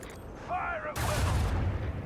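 Ship weapons open fire in a space video game, a sustained rumbling barrage of heavy low booms and bursts that swells in partway through and stays loud, with a brief tonal warble of game sound just before.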